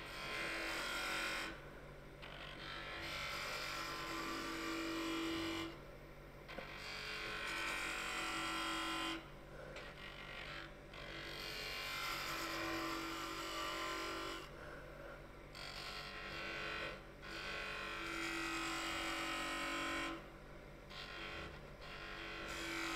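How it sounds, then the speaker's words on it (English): A wood lathe spins while a detail spindle gouge cuts a bead, giving a steady whirring hum broken by several short pauses, with no voices over it. "Let me use this tool. This is a detail spindle gouge."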